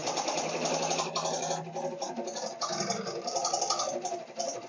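An embroidery machine with a fault stitches a scallop circle applique monogram on a duffel bag, running as a loud, continuous rapid whirring and rattling needle drive with small shifts in pace throughout.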